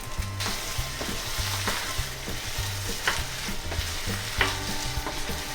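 Crackling sizzle from a frying pan, a steady close hiss with rhythmic pops and low clattering knocks repeating throughout.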